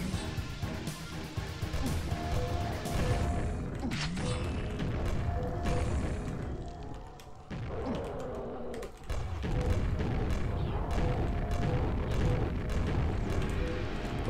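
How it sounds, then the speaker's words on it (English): Weapon fire and explosions from the first-person shooter Quake: Scourge of Armagon, including a grenade launcher, rumble loud and continuous among busy game effects and mechanical clatter, with a brief dip near the middle. "I got a grenade launcher though."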